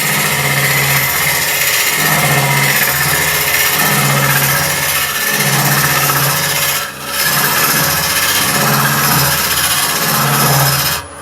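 A wood lathe turns a leaning garlic pot as the gouge sweeps out from the side, giving a loud, continuous rasping scrape over a rhythmic motor hum, with shavings flying off.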